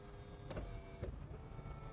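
A Chrysler Crossfire's power convertible roof motor whirs steadily up close, with two brief mechanical clunks partway through the cycle.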